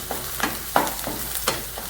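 Green chillies sizzle in hot oil in a pan for rava upma, with a steady frying hiss broken by scraping stirs at a loose rhythm, close and clear.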